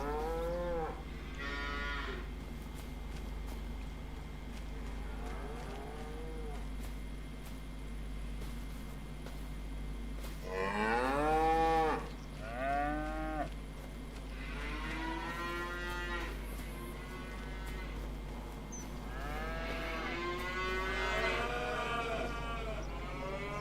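Cattle mooing in the video game Farming Simulator 25 on a Montana map, several drawn-out lowing calls spread across the scene over a steady low background hum, moderately close and fairly loud, with no talk.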